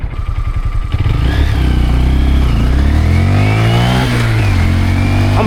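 A Honda Grom motorcycle rides through the night, its small engine loud and close as it revs and climbs through the gears, a steady buzzing drone with rising pitch sweeps and no voices.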